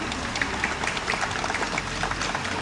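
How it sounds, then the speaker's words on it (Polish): Applause for brass band soloists at an outdoor park performance, a steady wash of clapping from the audience lasting the whole moment at moderate volume. "bo to są wielkie brawa"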